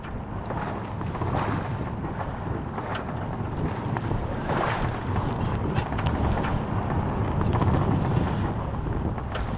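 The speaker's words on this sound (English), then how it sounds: "we've got a good breeze blowing" A steady, strong breeze roars across the microphone aboard a sailboat under full mainsail, with a constant rushing wash of wind and water.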